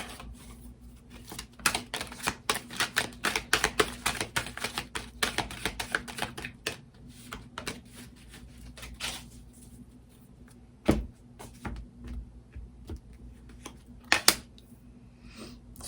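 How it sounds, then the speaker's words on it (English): Tarot cards being shuffled nearby, a run of quick crisp riffling clicks in bursts, then sparser taps and a few sharper snaps later on. "I'm gonna start shuffling."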